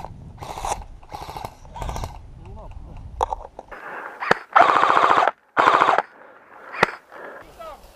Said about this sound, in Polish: Strzelają z zawału i zza drogi.